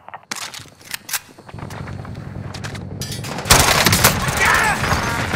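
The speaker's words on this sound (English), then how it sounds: "Enemy precision airstrike." Precision airstrike in Call of Duty: Modern Warfare: sharp gunfire-like cracks early, then a loud sustained roar of blasts and debris swelling after a few seconds, with a voice briefly heard beneath the din.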